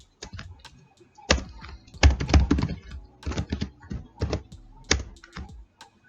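Code is being typed on a computer keyboard while writing Python, in close, crisp clusters of keystrokes with firm thunks and brief gaps between flurries.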